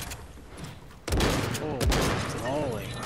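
Video game gunfire bursts out in sharp broadband blasts, with a heavy hit near the start and another shortly after, then steady shooting noise continuing beneath a voice speaking over it.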